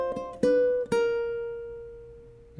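Bar 2 of the Habanera from Carmen on ukulele: three plucked notes in quick succession, then the last one rings out and slowly fades, played alone and close.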